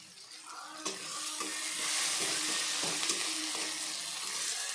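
Chopped ginger dropped into hot oil for a tempering for chana dal, a steady bright sizzle that swells after a clatter and stays loud with light stirring taps.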